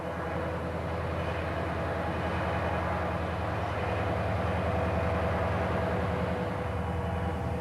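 A southbound Idaho Northern and Pacific freight train bound for Emmett rumbles steadily past on the Cascade Branch near Horseshoe Bend, a continuous low engine drone and rolling rail noise holding even and fairly close throughout.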